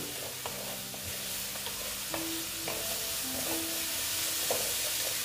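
Egg and potato curry frying and being stirred in a pan, a steady broad sizzle with repeated scrapes and clicks of the spoon against the pan, close and continuous with no talking.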